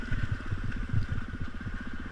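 A dirt bike rides through the loose sand and gravel base of a desert wash in the Mojave at Dove Springs, its engine a steady, close mid-pitched drone with rough rhythmic pulsing and no talk.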